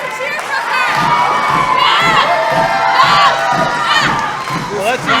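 A wrestling crowd cheers and shouts loudly and continuously, with high excited voices and chants rising and falling in waves throughout a women's pro wrestling match.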